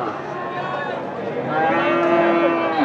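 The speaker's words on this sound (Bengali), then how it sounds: "দর্শক, 2 দাঁতের ষাঁড় গরু" A two-toothed bull at a busy cattle market lets out a long, loud moo that rises and holds near the end over a constant murmur of crowd noise.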